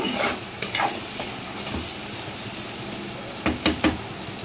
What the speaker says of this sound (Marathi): हे बघा, असा छान बटाटा मी तेलामध्ये परतवून घेते